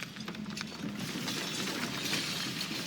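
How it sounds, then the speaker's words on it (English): Shattering effect from the video game Slay the Princess: a sustained crackling, breaking rush with gritty mechanical texture, moderately loud and continuous, with no voices. "And then the shattering"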